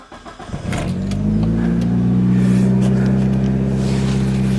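A Mitsubishi Evo 7 prepared for a dyno tune starts moving off, its engine building from a rough, uneven start into a loud, steady drone that holds close and continuous with no talk over it.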